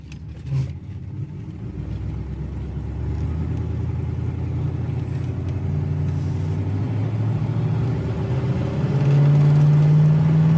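A 1967 Pontiac Firebird engine revs steadily and climbs in pitch, eases briefly, then pulls again after shifting into second at 70 mph, loud and close with no voices.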